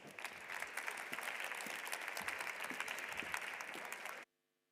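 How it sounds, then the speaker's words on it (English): A conference audience at an AI summit claps for a panel walking on stage, dense sustained applause from a large crowd that holds steady for about four seconds and then cuts off abruptly. "Please join me in giving them a warm round of applause."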